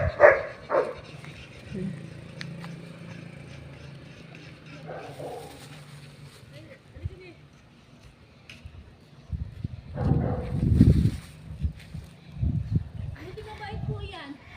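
A pet Labrador barks a few times outdoors, the barks mixed with people talking nearby, with a louder burst of activity near the end.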